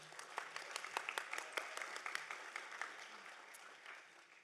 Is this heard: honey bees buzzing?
no